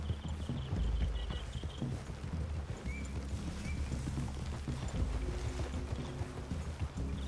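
In Red Dead Redemption 2, horse hooves clip-clop at a steady walking rhythm on hard ground, close by, with a low ambient rumble underneath and no talking.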